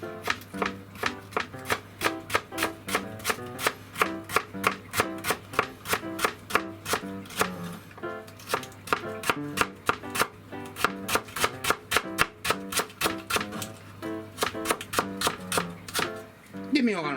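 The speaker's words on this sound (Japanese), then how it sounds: "そしたらもうこれ普通に千切りにしていきます。" A knife rapidly julienning myoga on a cutting board, a long run of crisp, evenly spaced chops at a quick steady rhythm, close and clear, with a brief pause partway through.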